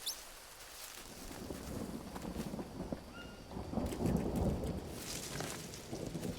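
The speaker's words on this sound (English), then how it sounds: "It's very good to see it's raining," Rain and rolling thunder in a jungle survival game, a soft wash of rainfall with a low, distant rumble swelling midway, no voices.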